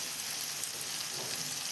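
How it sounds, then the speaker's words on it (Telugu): Sliced onions fry in a pan for a Telugu curry, giving a steady, fairly quiet hiss and crackle of hot oil with one small pop and no talking. "చూడండి, ఉల్లిపాయలు వేగుతున్నాయి."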